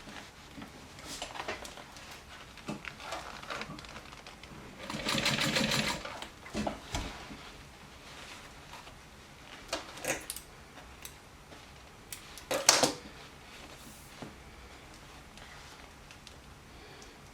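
A sewing machine stitches bias tape onto a fanny pack in short, uneven bursts of rapid whirring separated by pauses, close and fairly quiet.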